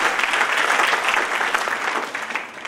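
An audience bursts into applause, dense clapping from many hands that stays strong and fairly even before tapering slightly at the end.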